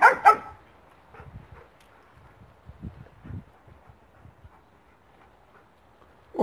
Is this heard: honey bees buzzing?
no